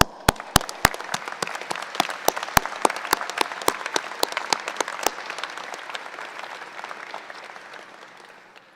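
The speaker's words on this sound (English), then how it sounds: "give them a round of applause." A university engineering commencement audience breaks into applause, dense clapping with sharp individual claps standing out at first, then thinning and fading gradually toward the end.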